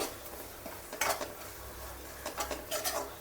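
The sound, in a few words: masala frying in a pan for mutton curry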